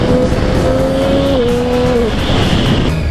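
A motorcycle engine revs hard while the rider pulls a wheelie on a road, a loud, steady close-up drone whose pitch climbs, holds, then dips near the end, with no voices over it.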